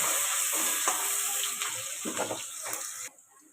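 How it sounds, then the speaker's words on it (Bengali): Chopped onions fry in oil for a bhetki fish dish, giving a dense, steady sizzle up close that cuts off abruptly near the end, with no talking. "পেঁয়াজটা এরকম ভাজা ভাজা হয়েছে বন্ধুরা"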